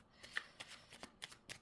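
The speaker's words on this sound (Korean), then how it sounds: "어떤 내용을 얘기해 주는지 좀 더 구체적으로 보기 위해서 추가 카드를 뽑아볼게요" Tarot cards shuffled and drawn during a reading: a series of crisp, papery flicks and slaps, about eight distinct card snaps spaced irregularly, close and fairly quiet with no voice over them.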